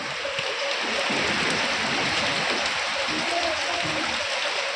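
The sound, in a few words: rain falling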